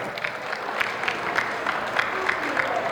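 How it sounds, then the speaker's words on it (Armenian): A crowd applauds in a hall to greet a friend of the celebrated guest, sounding like dense, steady clapping that carries through the whole stretch with brief peaks and a voice faintly mixed in. "Ողջունում ենք Արաքելի ընկերներին շատ բարձր ծափերով"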